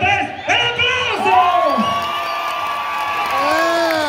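A crowd at a jaripeo show in Santa María Xuchapa cheers and whoops loudly, shrill voices of children rising and falling together.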